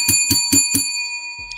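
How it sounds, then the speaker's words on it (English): A bell is struck four times in quick, even succession, bright ringing tones hanging on and fading into a short sustained ring. "Let's ring the bell for that."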